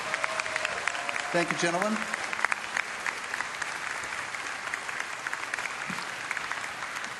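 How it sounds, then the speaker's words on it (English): A BlizzCon crowd at a World of Warcraft Q&A panel applauds steadily for several seconds while someone speaks briefly over the clapping near the start. "let's give them a round of applause"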